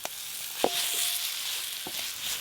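A sweet filling sizzles steadily in a hot pan while it is stirred to cook off the water. A few clear scrapes and knocks of the spoon against the pan sit over a constant frying hiss, with no speech.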